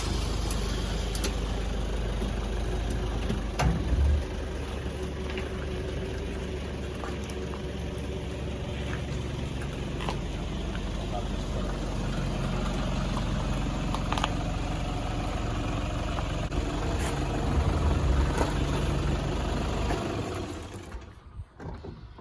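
Small fishing boat engine running steadily on its first launch down a slipway, a continuous low droning chug with bubbling water, fairly constant and close, dropping away at the very end.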